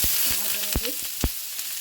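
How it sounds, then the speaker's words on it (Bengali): Potatoes and dried red chillies fry in very hot oil in a kadai, giving a close, steady sizzle broken by a few sharp scrapes of stirring. "আলু ভাজা কড়াইতে দিয়ে দিয়েছি শুকনো লঙ্কা আর আলু"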